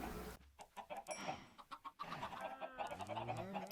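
Chickens clucking in the Minecraft video game, a run of short clucks and squawks packed closely together at moderate level and heard alone, with no talk.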